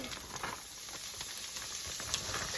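Sliced leeks sizzle gently in bacon fat in a pan over medium-low heat on a new stove, a soft, steady, close hiss with faint crackles throughout.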